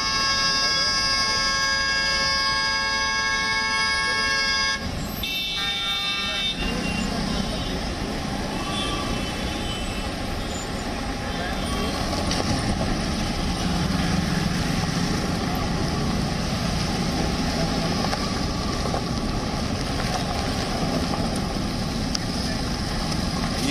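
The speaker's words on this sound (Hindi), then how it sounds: "ट्रैफिक जाम है।" Stalled traffic in a Delhi underpass: several sustained horn tones blare over a steady engine rumble for the first few seconds, then the jam settles into a continuous low drone of idling and creeping vehicles, with a voice heard at times.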